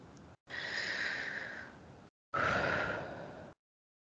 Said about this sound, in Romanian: Trei respirații.